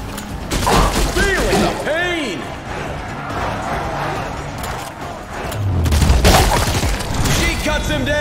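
Gunfire and booming impacts ring out in the Showgunners video game, heavy shots and thuds over mechanical clicks, with a voice talking over the action.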